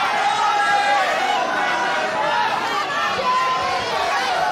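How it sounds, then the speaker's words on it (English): A crowd murmurs and chatters at a wrestling bout at the Cliffs Pavilion in Westcliff-on-Sea, a constant hall-wide babble with a voice talking over it. "the crowd here at the Cliffs Pavilion in Westcliff-on-Sea really beginning to warm up to this bout already"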